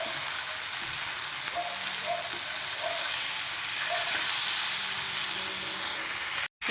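Spicy-marinated ribbon fish fries in a pan, producing a steady loud hiss of oil with soft intermittent bubbling and faint pops, continuing evenly before a brief cut near the end.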